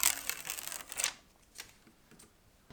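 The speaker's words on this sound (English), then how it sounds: "So I will peel off the second layer" Backing layer of double-sided tape peeled away in a quick crackling rip for about a second, fading into quiet with a few faint small ticks afterward.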